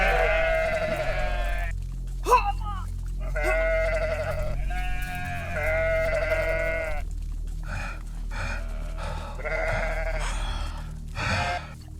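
Sheep bleating in an animated Tamil children's moral story, repeated wavering bleats close up, several calls in a row over a steady low background with some soft voices.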